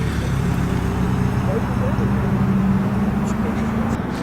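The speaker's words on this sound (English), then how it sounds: "I can hear straight cut gears." V4 Saab 96 rally car with straight-cut gears at a classic car rally at Oulton Park, running steadily at close range with a continuous engine drone and gear whine, a voice talking over it.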